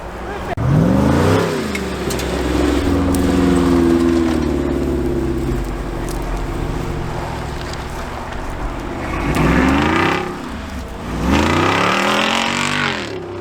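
A Jeep Wrangler Rubicon 392 V8 drives past close by, its engine rising and falling in revs as it sweeps through, then revving again in a couple of loud surges near the end, with steady background rumble between.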